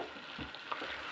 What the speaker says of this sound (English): So we've got all that lovely saucy shit all fried up in here, frying with the beans